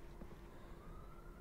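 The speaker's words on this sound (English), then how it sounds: "Pardon the siren there." A distant siren in a Project Zomboid game, a faint rising wail under low background rumble, brief and without talk.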